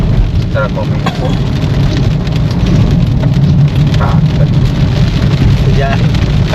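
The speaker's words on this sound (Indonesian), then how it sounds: "hujan karek hujan ya" Steady rain drums on a car's roof and windows during a drive from Bandung toward Situ Gunung, Sukabumi, a dense continuous patter over low road rumble, with occasional faint voices inside the car.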